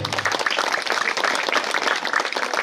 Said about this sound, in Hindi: तालियां ऐसी कमजोर नहीं चाहिए मुझे